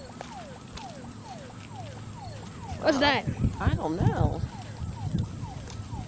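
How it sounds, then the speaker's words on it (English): A distant siren wails in a steady repeating falling pattern while two people talk briefly over it partway through. "That's a police siren or maybe an ambulance?"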